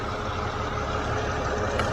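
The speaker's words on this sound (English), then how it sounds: "while the engine is running" A Mercedes engine idles steadily during an auxiliary battery test, a low continuous rumble with an even hum and no change in pace across the short stretch, no talking over it.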